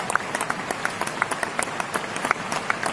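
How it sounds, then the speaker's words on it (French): Crowd applause at a La France insoumise political rally, a continuous patter of many hands clapping with distinct louder claps standing out, sustained throughout. "vous pouvez les applaudir"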